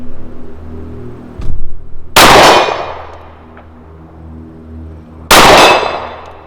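Two loud, sharp reports from a Stoeger STR-9 pistol fired at a target 50 yards downrange, spaced about three seconds apart, each with a brief ringing tail, amid quiet outdoor background.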